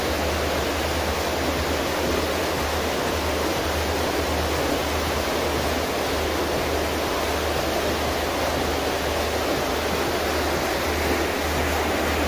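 Steady rushing water at a tilapia farm pond in Saudi Arabia, a constant broadband wash with a low hum underneath, loud and unbroken throughout with no voices.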